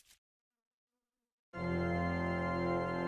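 After a short quiet gap, a steady insect buzz starts abruptly and drones on close and constant to the end.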